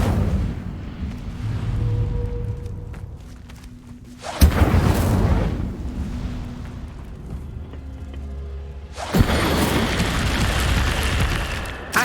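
A fire spell cast in the video game Hogwarts Legacy lands as sudden loud whooshing bursts, two sharp onsets followed by sustained roaring flame noise over a low game soundtrack.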